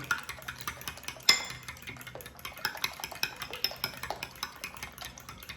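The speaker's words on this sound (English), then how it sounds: "I've got a fork, and I am scrambling the eggs" A fork scrambles three eggs in a bowl, producing a steady run of quick, light clinking scrapes with one sharper knock near the start, close and moderately loud with no talking.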